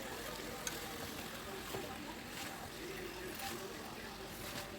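Chicken fry with mint stirred in a pan, a soft, continuous sizzle with faint scraping of the spoon, quiet and close.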